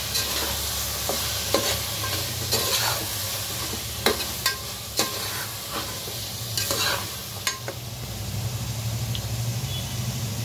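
Spices with biryani masala are stirred in a hot frying pan, a spoon scraping in repeated strokes over a steady sizzle, the scrapes coming irregularly for several seconds before the frying continues alone.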